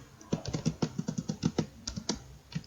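Fast, uneven keystrokes clatter on a computer keyboard while code is entered in a MATLAB GUI program, close and crisp clicks in short bursts with no talk.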